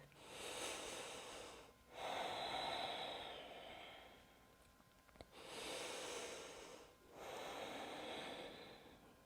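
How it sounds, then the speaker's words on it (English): Deep breathing during yoga: two slow breath cycles, each with a long airy inhale and a long exhale, close and soft in a quiet room. "One more breath."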